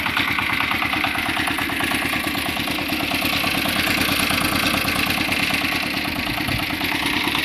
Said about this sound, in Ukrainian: Мотоблок 8 сил, кентавр.